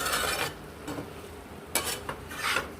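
Ghee is stirred into a potato, taro and banana-stem curry in a pot, giving soft scraping and rubbing strokes over a faint sizzle, close and fairly quiet with no talking.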